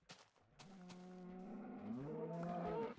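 Blocky cows in the Minecraft Alpha 1.1.2_01 version let out a few drawn-out, wavering moos, loud and close with no one talking over them.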